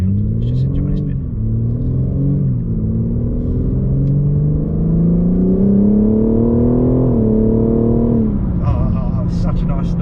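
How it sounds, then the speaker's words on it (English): A 2021 BMW M4 Competition G82 with its straight-six and exhaust opened up, loud and close from inside the car, droning steadily while the pitch climbs under acceleration, then drops off sharply near the end. "Now the exhaust have opened up."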